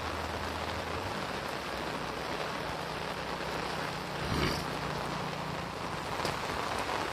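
Heavy rain pours steadily in a village, a dense, even roar of drops on surfaces, with a brief louder swell of passing noise midway and no talk.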